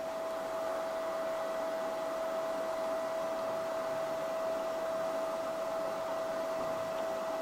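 Compressed shielding gas hisses steadily from an opened welding cylinder valve through a MIG gun on an Everlast Cyclone 200ES welder, a continuous broadband rush with a faint tonal whine, unchanging and close throughout.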